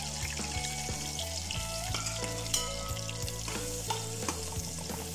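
Chopped onions sizzle and fry steadily in a hot pan for tomato pulao, with occasional stirring scrapes and faint clinks over the continuous crackle.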